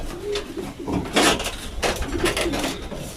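Racing pigeons in a breeding loft coo at close range in soft repeated phrases, mixed with bursts of wing flapping and scuffling, while a person speaks nearby.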